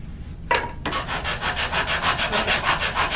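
Steady back-and-forth sanding of wood, a rhythmic rasping stroke repeating about every quarter second after a brief start.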